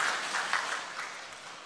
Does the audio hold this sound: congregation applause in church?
yes